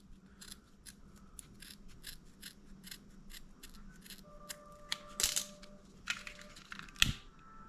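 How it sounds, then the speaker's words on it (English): Scissors snipping through fin straps at an angle, a quick run of crisp, close, quiet cuts in steady rhythm, followed by a couple of sharper snaps and rustles. "Now what I should have done with these is cut them all at an angle"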